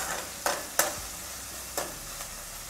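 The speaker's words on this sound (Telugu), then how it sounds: "ఉల్లిపాయ, పచ్చిమిరపకాయ వేసుకోవాలి. ఇవి కొంచెం లైట్ బ్రౌన్ వచ్చే వరకు వేయించుకోవాలి." Onion and green chillies frying in a pan until light brown, with a steady sizzling hiss throughout and a few sharp spoon scrapes against the pan, close and alone without talk.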